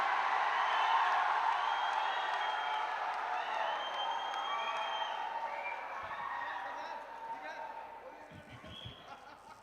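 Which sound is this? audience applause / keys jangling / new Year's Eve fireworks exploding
audience applause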